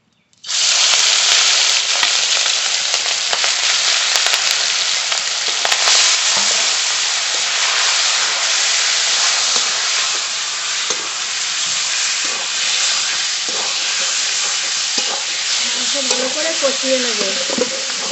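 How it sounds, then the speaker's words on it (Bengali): Spiced chicken hitting hot oil with whole cumin sizzles loudly and steadily, a dense frying hiss that continues close up with slight stirring variations for about eighteen seconds. "গরম করে নিয়েছি মশলা মাখানো চিকেন দিয়ে দেবো"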